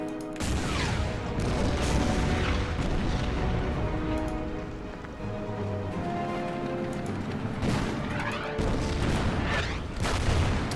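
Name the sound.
Stuka dive bomber and artillery attack in Order of Battle video game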